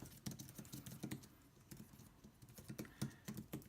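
Key presses on an iEGrow wireless keyboard set up as a mini laptop, a quiet, irregular run of soft clicks and taps through a few seconds of typing, close up with no talking.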